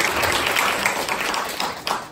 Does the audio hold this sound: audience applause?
yes